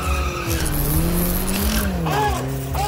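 An ambulance or fire truck runs a quarter-mile drag strip about two hours outside Bangkok, Thailand: a loud, close engine whine rises and falls, with tire squeal over a rough roar.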